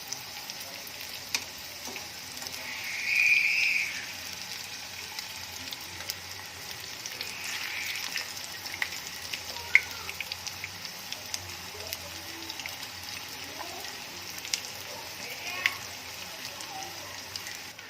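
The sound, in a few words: samosas frying on low heat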